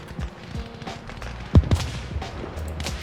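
Gunfire in the Arma Reforger video game, a couple of sharp shots standing out around the middle over a busy background of scattered impacts and movement, with no talk.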